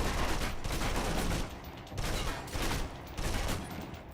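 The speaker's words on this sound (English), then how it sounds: "Now Right in let's the move on neck. to the submachine gun. Now let's empty the clip." A submachine gun in the video game Alpha Protocol, emptied in several sustained bursts of rapid automatic fire with brief pauses between them, heard at moderate level with no talking.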